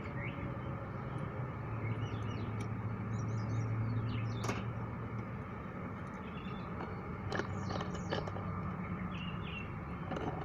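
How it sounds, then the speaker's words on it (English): Birds chirp and sing intermittently in the distance over a steady outdoor background rumble of passing traffic, with brief sharper calls standing out now and then. "Oh, listen to the birds."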